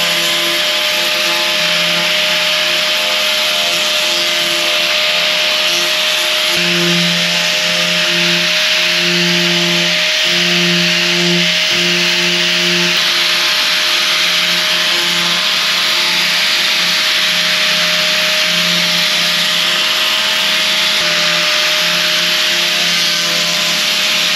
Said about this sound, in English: I'm going to use the grinder and some blocks, and we're going to kind of profile that a little bit.